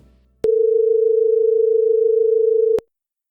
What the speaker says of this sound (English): you hear a rough, dissonant, pulsating noise. This is the beating.